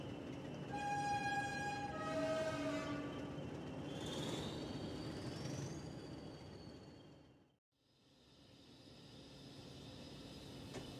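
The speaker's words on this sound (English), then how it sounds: "So Kammer rolled away to Woolchurch to pick up the train" A train engine rolls away, with a sounding horn, squealing wheels and a rising whine over a steady rumble, briefly dropping out before the rolling resumes.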